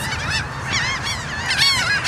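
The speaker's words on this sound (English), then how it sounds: "We're in Houston feeding ducks." Ducks being fed in Houston, with a loud, close chorus of repeated honking calls from several birds, continuous and overlapping with no talk.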